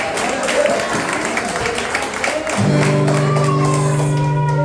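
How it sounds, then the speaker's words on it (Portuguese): Crowd clapping and shouting at a church service fills the first half, then a sustained musical tone rises up underneath as the applause continues. "Você pode aplaudir Jesus nesta noite?"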